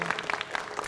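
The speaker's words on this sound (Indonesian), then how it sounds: "tepuk tangan lagi buat dia" An open mic stand-up comedy audience claps in a dense, continuous patter, fairly close and at moderate volume, with no voices over it.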